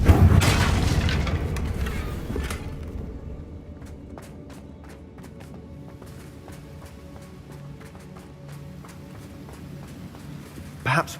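Fire spell blast in the Hogwarts Legacy game: a loud, booming burst at the start that fades over about two seconds, followed by quieter footsteps and scattered clicks.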